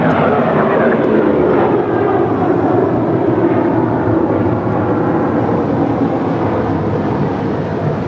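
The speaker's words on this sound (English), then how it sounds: "That is JetBlue Airways Flight 879 coming in from Las Vegas." A JetBlue Airways jet, Flight 879 from Las Vegas, arrives at LAX with a loud, steady engine roar that holds close and constant throughout.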